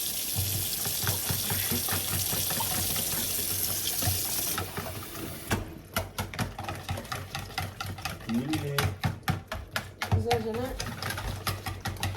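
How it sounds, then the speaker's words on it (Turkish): A kitchen tap is opened and runs in a steady broad hiss for several seconds during breakfast preparation, then stops, giving way to clinks, stirring and handling noises close by. "Dur açayım sana su."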